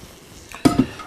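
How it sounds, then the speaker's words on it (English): Coarsely chopped yellow onion, being prepared for a smoked fresh ham, is dumped into a pot: a soft rustle followed by two quick knocking thuds against the pot. "And I've got 1 coarsely chopped yellow onion. We'll dump all that in."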